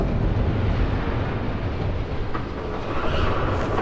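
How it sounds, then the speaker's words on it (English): A train approaching in the Telltale Batman video game, a loud continuous rumbling roar of rail cars that holds steady throughout, broad and heavy with a slight rise near the end, no voices. "There's a train coming."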